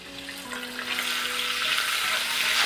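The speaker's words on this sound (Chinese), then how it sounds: "炒出红油" Pixian chili bean paste sizzles in hot oil with bay leaves, cinnamon, tsaoko, star anise, Sichuan peppercorns and dried chilies, a close, steady hiss that swells slightly as the mixture is stirred, with no voices, for crayfish.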